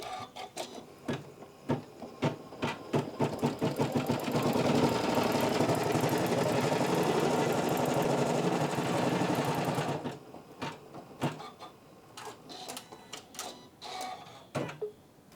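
A Janome CM17 embroidery machine stitches a built-in design, with rapid rhythmic needle clatter close up, a stretch of dense continuous whirring in the middle, then choppy stop-start stitching again.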